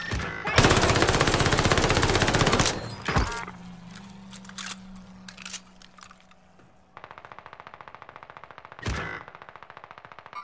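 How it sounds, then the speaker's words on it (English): Bursts of automatic gunfire in Call of Duty: Modern Warfare, a long loud volley up front, then quieter scattered shots and a steady rapid rattle later, with a final sharp blast near the end. "there's guys over here shooting at Pondy from two directions"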